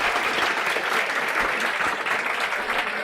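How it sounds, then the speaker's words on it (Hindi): A room of students at a CA Foundation class claps loudly for themselves, a thick continuous burst of applause sustained evenly throughout with no speech over it. "मैं चाहती हूँ एक बार आप लोग जोरदार तालियां अपने लिए बजा दें।"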